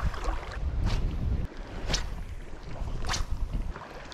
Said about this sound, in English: Here comes that wind. Very strong nor'easter.